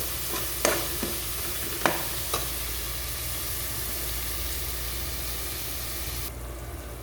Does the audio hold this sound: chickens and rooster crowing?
no